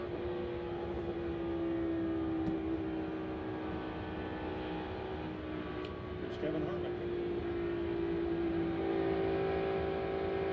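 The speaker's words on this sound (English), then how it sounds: "Don't you just love the sound of race cars, bro?" Stock race cars run during a NASCAR qualifying session, a steady, continuous engine drone with shifting tones throughout, heard under a commentator talking.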